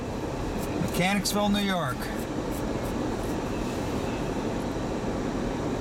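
Norfolk Southern freight NS206, usually about two miles long and running from Schiller Park, Illinois to Mechanicsville, New York, rolls past in snow with a steady, even rumble; someone speaks briefly near the start.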